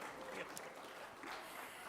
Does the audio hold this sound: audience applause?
yes